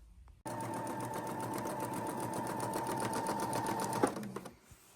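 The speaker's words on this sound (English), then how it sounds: "sewing half of the quilt to the other half of the quilt" A sewing machine stitching two halves of a fat quarter quilt together: one continuous close mechanical whirr with rapid needle pulses, starting abruptly, running steadily for about four seconds, then stopping, alone without talk.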